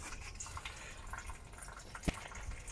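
Coolant trickles faintly and steadily from the opened radiator drain tap of a Toyota Yaris during water pump service, with one brief knock near the end.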